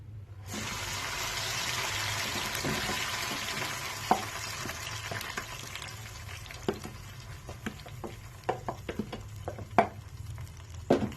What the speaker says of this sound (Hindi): ये 2 कप ऑयल मैंने गर्म होने के लिए रख दी थी। ये गर्म हो। अभी जो है मैं इसमें ये टमाटर पेस्ट डालूंगी।